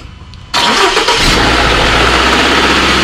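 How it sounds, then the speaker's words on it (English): A 2012 Subaru VX engine cranks and catches after a brief quiet moment, then settles into a loud, steady idle close by with a broad rumbling roar, no talking over it. "Try to start the car"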